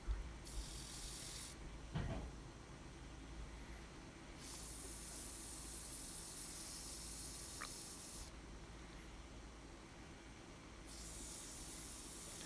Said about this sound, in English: Doing just a little bit of sanding.